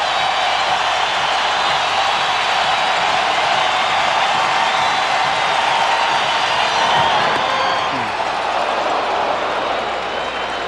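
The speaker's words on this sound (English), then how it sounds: "Crowd to its feet." A baseball crowd at a 1995 World Series game, Braves at Indians in Cleveland, rises and cheers: a loud, dense, steady roar of thousands of voices filling the stadium and holding strong for about ten seconds before easing slightly.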